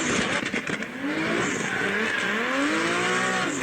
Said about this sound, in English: Mustang, burning them tires off, boy.